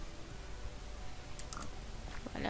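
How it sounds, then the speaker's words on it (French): A computer keyboard being typed on during a building game, with a few faint, scattered keystroke clicks over a low background hiss. "Désolé si on entend le son du clavier."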